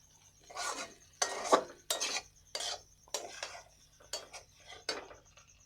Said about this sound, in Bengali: সেই ডিমটা এবারে দিয়ে দেব, দিয়ে ভালো করে নেড়ে মিশিয়ে নেব